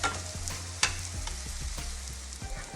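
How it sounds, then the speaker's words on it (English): Shrimp cooks in melted butter in a skillet, giving a steady close sizzle and crackle with scattered pops and one sharper spatter, and no voices. "So now I put that shrimp in there, and I'm going to let that cook for them 12 minutes."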